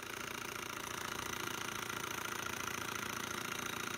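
A Bohm HB14 twin Stirling model engine made in Germany runs fast and steadily, giving a quiet, even mechanical whir with a rapid regular ticking throughout.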